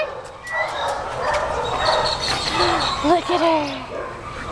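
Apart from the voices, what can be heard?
dogs barking in kennel runs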